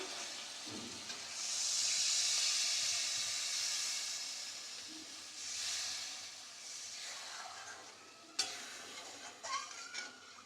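A little water poured onto fried spice masala for a chhana and spinach kofta curry bursts into a loud hissing sizzle that fades, surges again and dies down, followed by a few faint clinks near the end.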